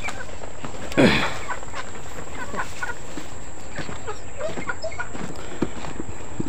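Backyard chickens, four hens, give one loud sharp cluck up close, then softer scattered clucks and rustling over a steady outdoor hiss.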